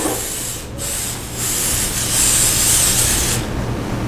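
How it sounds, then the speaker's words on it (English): Cooking spray hisses from an aerosol can onto a pan as it is readied for quiche. A short burst is followed by a longer continuous spray with a brief pause in between, close and fairly loud. "Now I'm going to spray my pan with some cooking spray."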